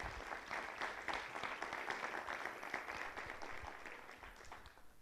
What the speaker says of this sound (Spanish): Fuerte aplauso, maestro.